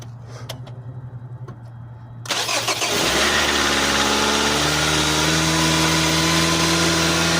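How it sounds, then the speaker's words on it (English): A 2012 Hyundai Sonata with a 4-cylinder GDI engine cranks briefly after a starter replacement, catches loudly and settles into a steady, close idle with no talking. "All you got left to do now is start the car"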